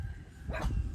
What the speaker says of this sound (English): Kippy, they're all barking at Kippy.